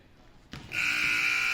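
A high school varsity basketball end-of-game buzzer sounds suddenly after faint gym ambience, a loud sustained electronic drone that holds steadily to the end.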